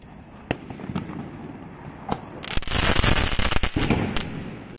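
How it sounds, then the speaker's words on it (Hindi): A Sky Force sky shot firework goes off after lighting, starting with scattered pops and crackles, then a dense burst of rapid crackling bangs around the middle that fades into a few sharp pops, heard close with no talking. "स्काई फोर्स को जला के देखते हैं स्काई फोर्स वाला स्काई शॉट है कैसा जलता है।"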